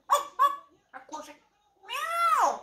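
A voice with short babble, then a long rising-and-falling meow-like cry, likely a person imitating a cat rather than a real animal.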